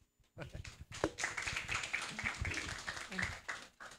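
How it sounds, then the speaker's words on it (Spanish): Audience applause at a conference side event on protection mechanisms, a short burst of scattered clapping from a modest crowd that swells and then thins, with a voice speaking over it. "Doble aplauso porque tenemos otra vez la interpretación"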